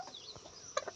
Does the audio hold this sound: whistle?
no